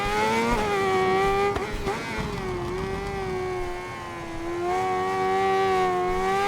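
Honda sports motorcycle engine in a racing video game, a loud, steady high-pitched whine with a brief dip in revs around braking before climbing again, heard close and continuous.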